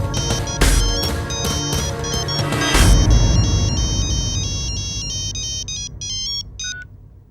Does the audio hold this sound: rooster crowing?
no